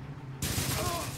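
A burst of gunfire erupts in a Blitzkrieg 3 battle, starting abruptly after a short quiet lead-in and rattling on loud and dense, with faint voice-like sounds mixed in.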